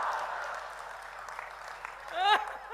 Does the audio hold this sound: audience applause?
yes